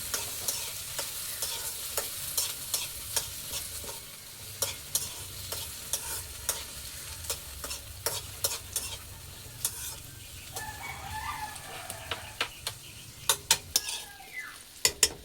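Garlic, onion and tomato sauté together in a pan with a continuous close sizzle, while a utensil scrapes and taps against the pan in repeated stirring strokes; no one speaks.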